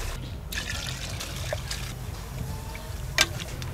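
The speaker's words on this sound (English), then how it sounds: "Add some water." Water trickling and pouring softly into a pot, a quiet steady flow with a few small clinks.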